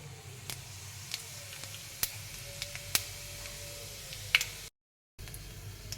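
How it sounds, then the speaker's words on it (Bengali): Whole cumin, cloves, cardamom and cinnamon sizzle quietly in hot oil left over from frying potatoes. The hiss is faint and steady, broken by scattered sharp pops and ticks and one brief silent gap. "ওই তেলেই দিয়ে দিচ্ছি গোটা জিরে, 2-3টে লবঙ্গ, এলাচ 3-4টে, আর 1-2 টুকরো দারচিনি"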